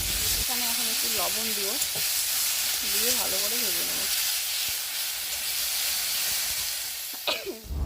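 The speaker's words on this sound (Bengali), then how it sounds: "এই যে বাটাটা এখন দিয়ে একটু ভেজে নেব যতক্ষণ পর্যন্ত শুকনো শুকনো না হয় ভাজাটা" A ground spice paste fries in hot oil with nigella seeds and dried chilli, giving a continuous, close, hissing sizzle. Someone talks over it in the first half.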